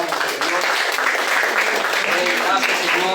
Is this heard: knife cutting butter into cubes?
no